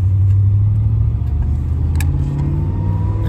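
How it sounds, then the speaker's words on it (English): A 1986 Buick Regal Limited with a V8 cruises along, its engine a loud, smooth, steady low rumble with a faint rise near the end and no voices. "very, very smooth driving car"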